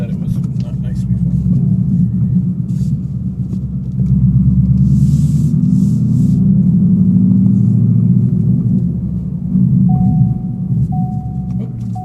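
A 2015 Ford Mustang GT fitted with Flowmaster Outlaw axle-back exhaust rumbles deep and steady, heard from inside the cabin with the windows up, its drone swelling at times as the engine pulls.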